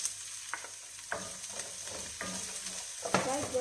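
Arabic-style fried rice with onion is stirred in a hot pan, with a spoon scraping in a few close, irregular strokes over a steady background sizzle and no speech.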